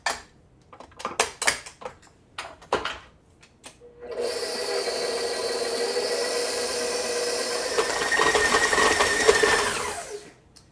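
A mixer beats a wet gluten-free double chocolate focaccia dough with olive oil, a steady loud whirring drone running for about six seconds after a few short clatters and knocks, rising slightly near the end.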